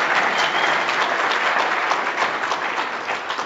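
An audience at a talk on health and the human microbiome applauds in a dense, steady wash of clapping that continues evenly and fairly loudly without letting up.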